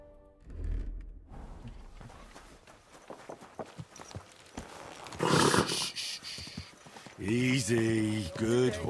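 Hooves clop in an irregular rhythm in the video game Kingdom Come: Deliverance II, with a louder burst midway and a pitched, wavering horse call near the end, alongside some speech.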